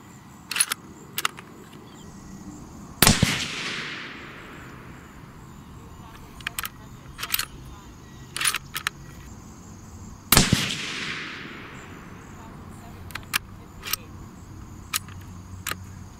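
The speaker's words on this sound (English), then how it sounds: "This is the final group of the day" Two suppressed shots from a Savage Ultralite rifle in 280 Ackley Improved, firing Barnes 140 grain TTSX handloads, boom out several seconds apart, each with a fading tail. Quieter clicks and handling noises fall between them, and someone speaks briefly.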